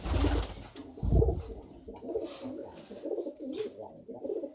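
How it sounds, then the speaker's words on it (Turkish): Pigeons cooing while being fed, soft low throaty coos repeating close by in a somewhat noisy outdoor setting, with a few brief higher chirps mixed in. "Bugün arkadaşlar güvercinlerimizi yemleyeceğiz her zamanki."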